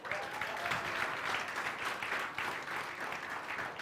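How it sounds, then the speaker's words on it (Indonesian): A congregation at a Sunday church service claps together, a steady, moderately distant patter of many hands that holds evenly for nearly four seconds, with no talking heard. "Tepuk tangan dulu buat Tuhan"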